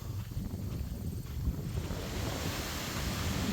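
Strong wind gusts across an open prairie trail at Buffalo River State Park, buffeting the microphone with a loud, rough, continuous rumble and rushing noise and no speech.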